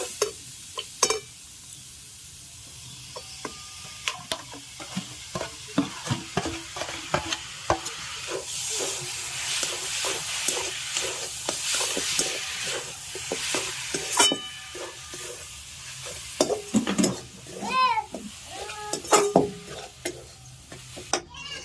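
Coconut filling with jaggery cooks in a pan for Bengali kadam pitha, with steady stirring scrapes and a soft sizzle running throughout and louder clanks from the spoon near the end.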